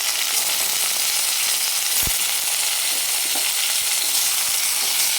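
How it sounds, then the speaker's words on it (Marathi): Mutton chops sauté in hot oil, giving a dense, even sizzle that stays loud and close for the whole stretch, broken by a single sharp knock of the spatula against the pan. "तेलावर एक पाच मिनिट चांगलं परतून घ्यायचं आहे आपल्याला"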